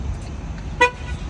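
A Neta electric car gives a single short horn chirp as its doors lock, a brief mid-distance toot over a low outdoor rumble, with no talk.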